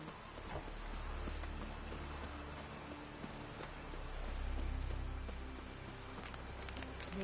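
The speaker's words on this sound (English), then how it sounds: "Maybe we needed a spot of rain." Steady rain in The Witcher 3 patters softly throughout, with a low rumble swelling in the background and faint tones drifting underneath.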